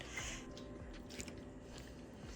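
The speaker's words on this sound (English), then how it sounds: "The crunch is heard clearly. Did you hear that?" Close, quiet crunching of cooked burdock root being bitten and chewed, in a quick irregular series of crisp bites.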